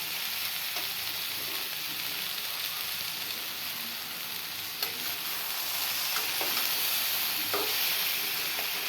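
Green chillies and food fry in a pan while being stirred, with a steady close sizzle and occasional scraping and clinking taps from the utensil.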